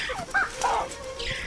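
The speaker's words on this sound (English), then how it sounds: "Mongooses are quick to warn of danger, and the baboons respond swiftly to their chirping alarm calls." Mongooses in the African wild, near baboons, give quick chirping alarm calls: a few short, sharp chirps scattered over steady outdoor background noise, fairly close.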